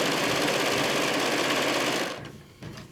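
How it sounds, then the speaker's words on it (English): A sewing machine stitches quilting fabric from charm packs for a table runner, a fast, steady, close mechanical chatter for about two seconds that then stops, followed by a brief soft handling sound. "then I'll line up again and sew the next 6 inches."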